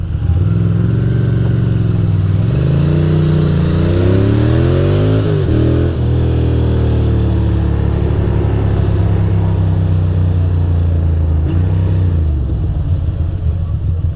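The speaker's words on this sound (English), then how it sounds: "We got all sorts of motorcycle activity today." Ducati and other motorcycles ride and rev through Manhattan street traffic, their loud close engines rising and falling in pitch through several throttle blips over a continuous rumble.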